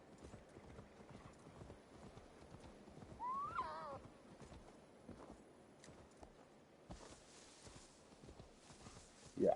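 Steady clip-clop of horse hooves walking in Assassin's Creed Valhalla, with a brief whinny partway through, all quite faint.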